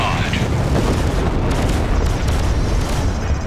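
Loud, booming explosions roar through a space combat scene in the PC game Freelancer as a station is destroyed, a dense sustained blast rumble with crackling bursts, while a person talks excitedly over it.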